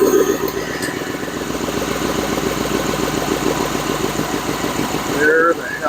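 A Lincoln Mark VIII engine with an exhaust leak runs at idle up close, giving a steady, rapid, rhythmic ticking and puffing pulse that continues without a break for several seconds.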